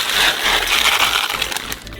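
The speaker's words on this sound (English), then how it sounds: "So pour 1 kilogram of buckwheat into a saucepan." Dry buckwheat grains poured into a saucepan make a continuous rattling, hissing patter for about two seconds, fairly loud and close, with no talking.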